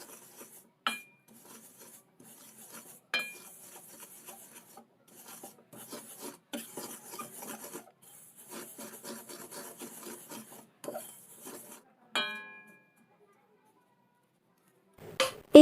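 A ladle scrapes and stirs through a thick semolina and water mixture in a kadai, producing repeated close rasping strokes with small metallic knocks and brief pauses.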